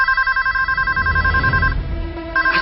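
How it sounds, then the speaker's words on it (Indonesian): A telephone rings in a radio drama, the repeated electronic bell bursts loud and close over a low rumbling background, pausing briefly near the end before ringing again. "tiba-tiba kami dikagetkan oleh suara telepon berdering."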